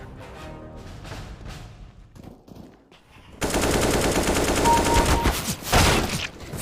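Video game deathmatch gunfire: scattered shots at first, then a dense, loud burst of rapid automatic fire that keeps going for several seconds.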